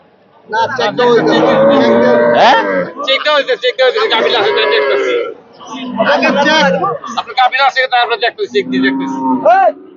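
Loud cattle moos, drawn out and repeated, mix with the chatter of a busy crowd close by at the Hazratpur cattle market where pregnant cows are sold.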